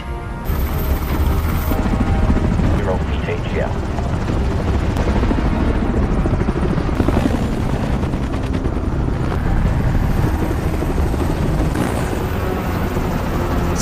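A helicopter roars continuously and loudly nearby, its rotor chopping steadily with no voices heard.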